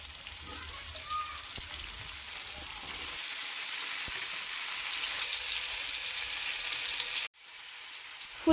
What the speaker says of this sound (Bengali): একে একে ফুলকপি, আলু, টমেটোটা দিয়ে আবার ভালো করে ভেজে নেব